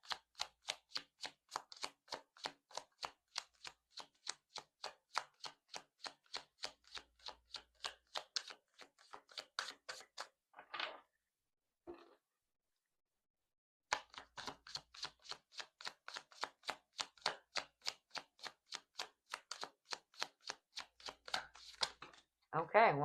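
Tarot cards being shuffled by hand, a long run of rapid, even riffling clicks, close and fairly quiet, broken by a short pause before the shuffling starts again.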